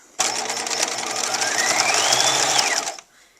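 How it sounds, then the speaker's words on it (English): A sewing machine hums fast and loud without pause for about three seconds, stitching a sleeve on a Butterick 5824 garment, then stops abruptly, leaving a quiet room. "now I'm going to keep stitching."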